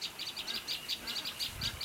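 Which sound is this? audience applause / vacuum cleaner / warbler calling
warbler calling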